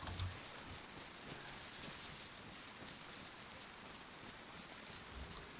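Continuous hiss of falling rain in the survival game DayZ, a dense, even wash of drops that stays steady and moderately quiet for the whole stretch, with no talking.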